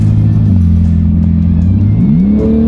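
A tuned Porsche GT2 RS revving hard. The engine note holds, drops sharply at a quick gear change, then climbs again, loud and close inside the car.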